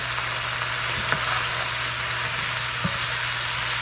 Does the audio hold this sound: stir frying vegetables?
yes